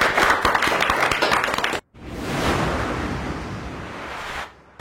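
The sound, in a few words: applause from audience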